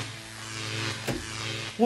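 A low electrical buzz, presented as a robot charging, hums steadily and moderately loud with a brief crackle near the middle, in an indoor comedy scene, before a voice begins at the end.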